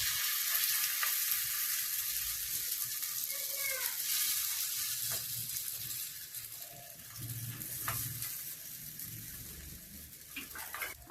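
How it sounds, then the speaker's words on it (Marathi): Potato patties pan-roasting in a little oil for ragda pattice, a continuous close hiss of frying with occasional soft taps and scrapes of a spatula, no voices. "याच्यावर असं थोडंसं तेल टाकून आपण त्याला भाजूनच घेऊया"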